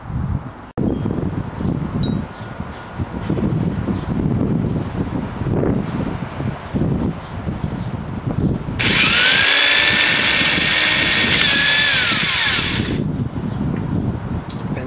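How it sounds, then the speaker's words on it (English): A drill whines loudly for about four seconds, a steady high-pitched grinding through a plastic TV remote, over a background of wind and rustling. "is how you drill through a remote"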